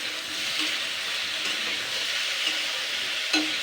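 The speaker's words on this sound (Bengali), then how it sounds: "এটাকে জাস্ট আমি 1 মিনিট মতো নাড়াবো, তারপর আমি জল দিয়ে দেবো।" Ridge gourd with salt and sugar fries in a pan as it is stirred, giving a continuous soft sizzle with a couple of faint scraping touches.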